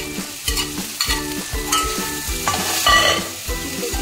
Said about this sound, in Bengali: এবার চিংড়ি ভাজা চিংড়িটা এবার দিয়ে দিলাম।